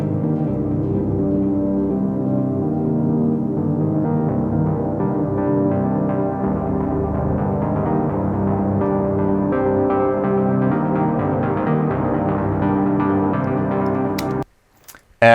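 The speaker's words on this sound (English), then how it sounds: "that was made on the Moog over there, but it's also fed through a bunch of pedals" A Moog synthesizer motif fed through a chain of effects pedals plays as a thick, smeared, continuous wash of layered tones at steady loudness, ending abruptly with a couple of sharp clicks.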